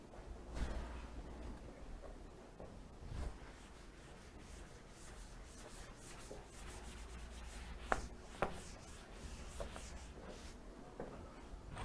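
A classroom board being erased, soft continuous rubbing and wiping strokes, fairly faint, with a few light knocks and no talking.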